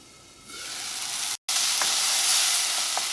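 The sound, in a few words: tomato masala sizzling in a covered pan while being stirred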